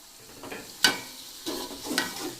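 Tomatoes fry in a pan for biryani with a soft sizzle under a few sharp stirring scrapes, close by and with no voices.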